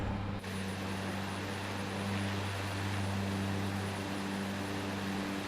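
Cessna C208 single-engine turboprop in Microsoft Flight Simulator, heard from outside the plane on a winter cross-country flight over the snowy Carolinas: a steady, loud propeller drone with a constant low hum and no talk.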